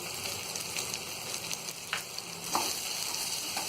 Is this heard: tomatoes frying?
yes